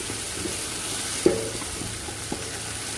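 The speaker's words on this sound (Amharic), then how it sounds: "ሽንኩርታችን ቀላ እስከሚል እንጠብሰዋለን።" Onions fry in a pan for a spicy Ethiopian lamb and vegetable stew, giving a soft continuous sizzle with a couple of brief stirring clatters. The sound is fairly quiet and close, with no talk.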